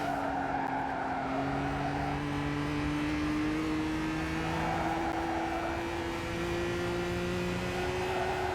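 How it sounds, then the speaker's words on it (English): A race car in Gran Turismo 5 runs through a corner apex and over a rumble strip, giving a steady engine drone with a sustained tire-squeal tone and a buzzing rumble under it, loud and continuous. "That nice little rubble effect you heard then was me literally just getting into the apex point."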